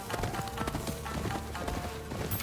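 In the Ghost of Yotei video game, a horse gallops through snow with a quick rhythmic clip-clop of hooves that stays steady and fairly close, with no one talking over it.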